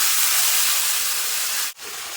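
A loud, steady hiss of spice paste with chili powder sizzling in a pan just after a little water goes in, with a brief dip near the end before the sizzle continues.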